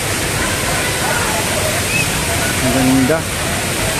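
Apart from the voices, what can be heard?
Isarog Falls waterfall, Mt. Isarog Natural Park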